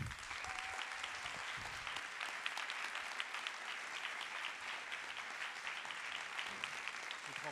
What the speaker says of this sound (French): Je vous demande d'applaudir chaleureusement et avec beaucoup de plaisir Pascaline Lepelletier